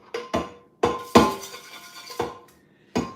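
A metal pot clanks and clinks against a sink or dish surface in a home kitchen, several separate knocks with ringing tails, with no talking.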